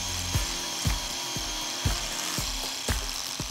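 A grinder works a weld on a stainless steel tube at a 45 degree joint, sanding back and forth with a medium-grade abrasive; steady grinding hiss with regular scraping strokes about every half second, close and continuous.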